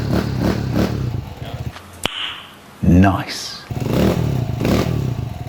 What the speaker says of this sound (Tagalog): Ito ngayon yung andar ng motor niya.